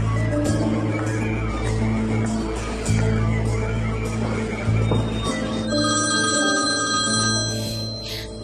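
A telephone rings repeatedly over a busy, dense background of music and noise, with the ringing tones cutting through in regular bursts.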